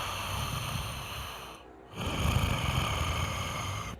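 A game master imitates heavy, raspy breathing with his voice during a tabletop role-playing session: a long, noisy exhalation, a brief pause near the middle, then a louder, rougher breath that continues steadily to the end.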